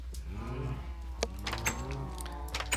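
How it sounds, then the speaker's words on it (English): Minecraft sheep bleating in a game world, a few short wavering bleats mixed with other livestock calls over a steady low hum, no talking. "and then these are my sheep over here."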